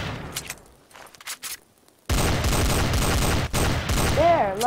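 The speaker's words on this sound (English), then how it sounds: "I would shoot it." Rapid gunfire in Garry's Mod aimed at a zombie torso, a dense loud burst of shots that starts abruptly after a quieter stretch with scattered softer sounds and keeps going steadily to the end.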